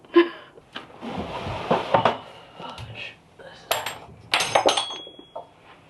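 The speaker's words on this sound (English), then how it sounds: "I just broke a glass test tube thing, and I don't know where all the pieces went." A glass test tube breaks indoors among potted plants, giving a few sharp clinks and tinkling scatters of glass pieces at close range, with some brief voice and clatter between the bursts.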